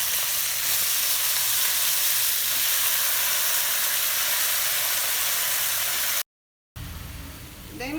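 Chana dal and potatoes sauté in hot oil in a pan, giving a loud, steady hiss of frying throughout, broken by a brief silent gap near the end before the sizzling resumes.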